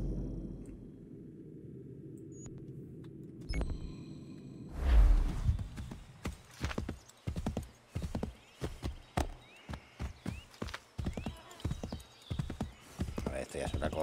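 Horse hooves clop in the video game Assassin's Creed III, starting after a quiet stretch with a snort, then a brisk steady rhythm of hoofbeats running to the end, fairly close and loud.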